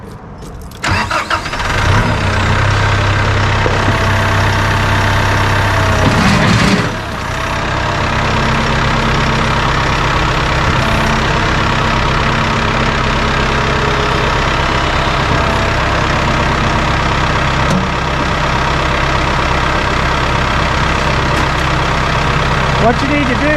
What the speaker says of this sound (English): I'm going to start up the tractor